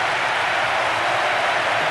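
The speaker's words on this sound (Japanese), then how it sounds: "スタジアム中が大歓声で揺れています。" A stadium crowd roars in J.League Winning Eleven 2008 on PS2 during an Omiya Ardija vs. Albirex Niigata match, a dense, loud, unbroken cheer with no speech.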